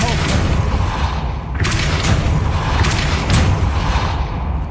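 A spell cast in the video game Hogwarts Legacy makes a series of loud whooshing blasts, each with a sharp burst at its start, over dense, rumbling game noise and combat sounds.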